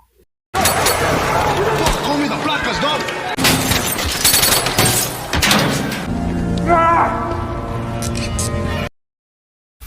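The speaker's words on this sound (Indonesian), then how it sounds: "Terjadilah adu tembak." Film gunfire in a police raid on a drug deal: loud rapid bursts of shots and thuds packed together over several seconds, with a narrator's voice running over the shooting before it cuts to silence.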